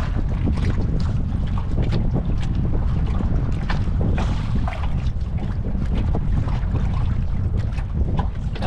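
Strong wind buffets the microphone at a fishing spot on the water near a boat, a constant loud roar with gusty rumbling throughout.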